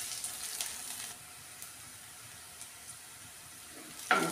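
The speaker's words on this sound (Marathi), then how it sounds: "चांगलं लाल होईपर्यंत फ्राय करून घेऊया" Chopped onion sizzling in a pan as it fries until browned, a steady soft crackling hiss throughout with a brief louder stir near the end.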